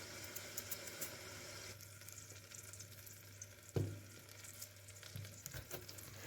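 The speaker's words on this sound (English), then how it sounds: "fry the rest with the remaining oil" A chicken fillet frying in oil in a pan, with soft, steady sizzling and crackling at low volume and a brief louder pop or stir partway through, no voices.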